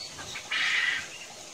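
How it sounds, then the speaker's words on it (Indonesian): A kept kamandin bird gives a short, soft chirping call that rises briefly in the middle of a hushed room tone, single and close, without anyone talking. "Dan ini burung kamandinya udah juga mulai bunyi sedikit lah"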